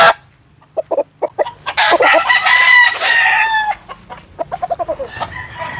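A Boston Roundhead rooster crows loudly and nearby in one long drawn-out call, preceded and followed by short staccato clucks from the bird.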